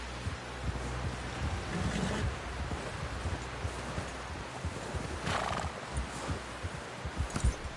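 Horse hooves in Red Dead Redemption 2 clip-clop steadily on the ground, with neighs and whinnies breaking through over a rushing, windy background.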